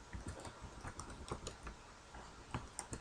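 Typing on a computer keyboard, a quiet run of uneven key clicks close by with short pauses between bursts.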